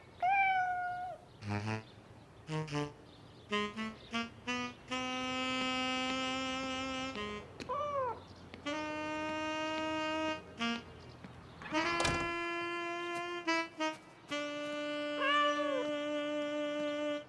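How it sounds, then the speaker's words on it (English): A cartoon cat meows repeatedly in drawn-out, rising and falling calls, with stretches of musical tones and a few short chirps between them, fairly close and clear with no talking. "No cats on the table."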